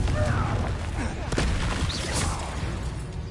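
The Confringo blasting spell in a Harry Potter video game bursts in booming explosive hits with whooshing swishes, loud and close, while a voice speaks over the blasts.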